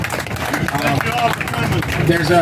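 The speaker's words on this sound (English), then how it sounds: "Everybody give James a round of applause for this great facility in Florida to host this." Applause at an RC drag racing drivers' meeting at a Florida facility, a mix of claps and crowd murmur with voices talking through it.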